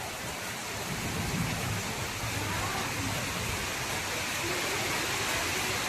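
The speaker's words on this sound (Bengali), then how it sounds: "অনেক সুন্দর বৃষ্টি দেখুন, বাহ অনেক দারুণ বৃষ্টি হয়েছে।" Heavy rain pours down in a steady, dense hiss that holds at the same level from start to finish, with no voices over it.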